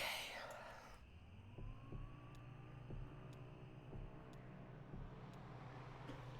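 Low, steady engine drone of a car in the video game Kentucky Route Zero, a continuous rumbling hum with faint tonal whine, heard alone without talk.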